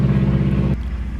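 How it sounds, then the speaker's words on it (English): A loud, steady low engine roar like a passing aircraft, continuous throughout and dropping slightly in level near the end. "I think I'm in a flight zone because every once in a while these flights come by"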